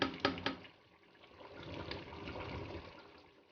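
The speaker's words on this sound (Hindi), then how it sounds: "अब हम इसको इस पानी के अंदर से निकाल लेंगे चावलों को" Boiled rice is drained out of its cooking water for chicken biryani, a close, splashing pour of water with a few sharp knocks at the start and a fading trickle afterward.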